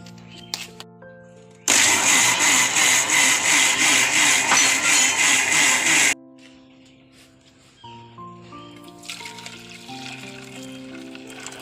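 A mixer grinder whirs loudly and steadily for about four seconds grinding rice with salted water into neer dosa batter, then cuts off; soft music plays before and after.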